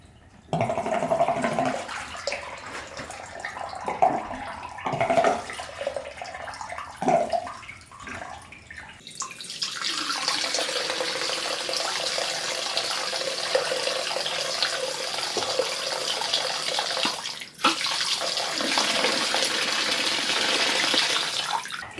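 Pressurized water drains from a toilet supply valve: irregular splashing and gushing at first, then a steady, close rushing flow that continues for more than ten seconds.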